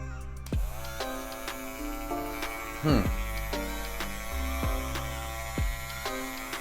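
A cordless Andis Master hair clipper runs with a steady, fairly loud electric hum and buzz, broken by a few sharp clicks and handling knocks.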